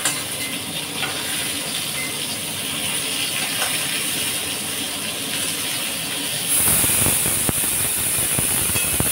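A kitchen pressure cooker whistle, used while cooking and frying pointed gourd, releases steam as a continuous high hiss that swells louder partway through, with sizzling underneath and no talking.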